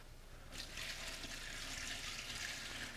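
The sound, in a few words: pouring about two gallons of water into stock pot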